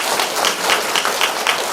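A church congregation cheers and applauds for God, with dense, continuous clapping and crowd cheering that stays loud and steady throughout.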